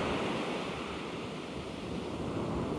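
Ocean surf washing back off a beach where someone is fishing for striped bass, a steady broadband wash with no distinct breaks, close and fairly loud with wind noise on the microphone.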